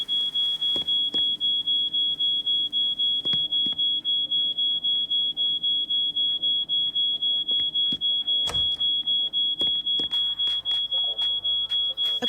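A smoke alarm triggered by burnt toast in the game She Could Fly keeps up a piercing high tone that pulses rapidly, with scattered clicks and knocks from the game over the top.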